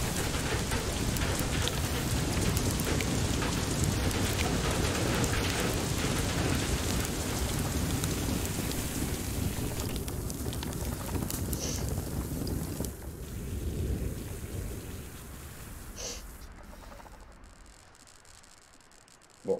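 Steady heavy rain and wind roar through a thunderstorm in the game FAR: Lone Sails, a dense continuous wash that eases and thins toward the end.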